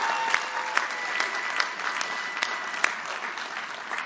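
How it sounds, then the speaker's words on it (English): Graduates at a commencement ceremony applaud, a broad, steady roar of clapping from a large crowd with a few sharper individual claps standing out, heard from some distance in a big space. "Give yourself a round of applause for that."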